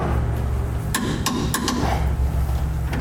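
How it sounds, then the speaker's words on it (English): Bolts on Air Lift LoadLifter 5000 air helper springs being torqued to spec: four sharp metallic clicks in quick succession over a steady low background hum. "now that we have these tight, we can torque them to spec"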